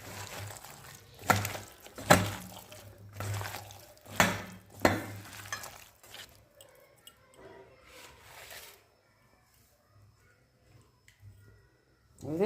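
Small fish are rubbed and mixed with spices by hand in a bowl. Several close squelching, slapping strokes come in uneven bursts over the first half, then it drops to faint scattered rubbing and near quiet, with no talk.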